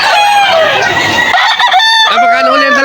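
A rooster crows loudly and close at a chicken sale in Malolos, Bulacan, with clucking fowl around it and a long crow breaking through busy background chatter.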